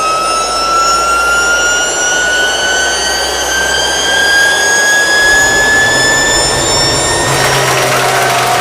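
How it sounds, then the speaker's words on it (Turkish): A TF6000 domestic turbofan jet engine runs loud and steady, its roar layered with rising whining tones that climb throughout, and the low rumble shifts near the end. "İşte bu TF6000 yerli ve milli ilk turbofan jet motorumuzun sesi."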